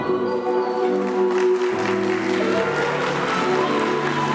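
Wedding guests clap loudly and steadily at a church ceremony, the applause blending with sustained music throughout.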